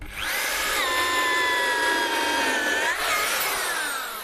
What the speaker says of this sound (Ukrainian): І дивимось, чи вистачить у метабо потужності зробити отвір у сотому брусочку.